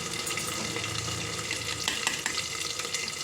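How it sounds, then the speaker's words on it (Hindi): Small raw potatoes frying in a pan for aloo dum, giving a dense, steady close sizzle with faint stirring scrapes and no talk. "ये देखिए, आलू जो है भुनना शुरू हो गया"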